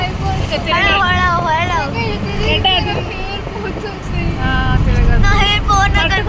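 Continuous engine rumble and road noise from an auto rickshaw on the move, with people chatting loudly over it throughout.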